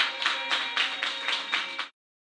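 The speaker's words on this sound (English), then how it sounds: "Let's give them a round of applause." Steady applause rises in rhythmic surges for about two seconds, then cuts off abruptly into silence.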